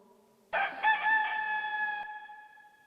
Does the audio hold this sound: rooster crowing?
yes